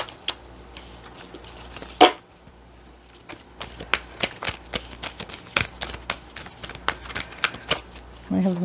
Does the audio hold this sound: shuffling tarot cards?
yes